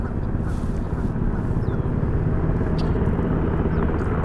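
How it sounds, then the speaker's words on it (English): A deep, constant mechanical rumble drones throughout, loud and unbroken, rotor noise from a helicopter flying overhead. "And you should be able to see that helicopter."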